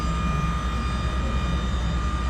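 A hydraulic mast rises under fingertip lever control, producing a steady, loud mechanical hum with a constant pump whine and no break.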